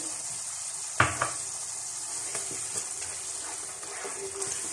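Blended tomatoes, three medium ones, drop into spices frying in oil for achari choley, a sharp hiss at the moment they hit the pan, then a steady soft sizzle with faint stirring clicks.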